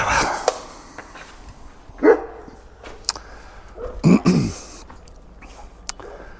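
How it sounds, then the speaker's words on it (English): Dogs bark outdoors in a few scattered bursts, sharp single woofs and a louder cluster, heard at a moderate distance over quiet ambience. "Oh, the dogs are at it again."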